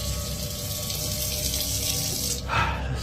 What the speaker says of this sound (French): Le robinet s'ouvre tout seul